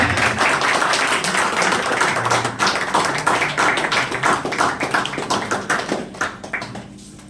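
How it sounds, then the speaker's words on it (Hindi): Loud, dense applause from an audience at a coaching centre inauguration ceremony, sustained for several seconds before thinning into sparser claps near the end. "जोरदार तालियां बजाएं।"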